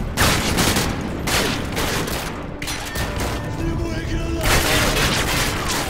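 Bursts of automatic gunfire rattle through a Modern Warfare 2 firefight in the Gulag level, loud and sustained, with volleys and booms spreading across the whole stretch.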